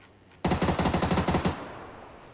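A close burst of automatic gunfire in the battle royale game PUBG, about a dozen rapid evenly spaced shots over one second followed by a fading echo.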